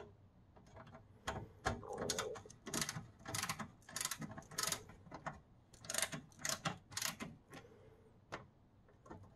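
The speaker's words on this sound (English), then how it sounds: "It's nice to have a ratcheting screwdriver." A ratcheting screwdriver tightens screws into a computer case, giving close, quiet runs of rapid clicking and ratcheting strokes in an irregular rhythm over about nine seconds.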